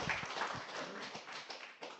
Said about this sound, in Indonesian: Yang setuju tepuk tangan buat Allah kita luar biasa